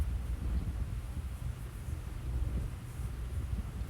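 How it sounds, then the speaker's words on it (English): Gusty wind buffets the microphone with low, steady rumbling and fluctuating roar, no voices present. "It's really windy now."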